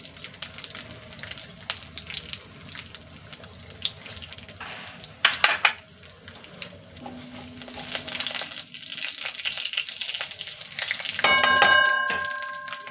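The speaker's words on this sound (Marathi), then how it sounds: "आता आपण जिरे टाकत आहोत" Cumin seeds dropped into hot oil for a tempering crackle and sizzle with clicks and small bursts, close and moderately loud, with no voices.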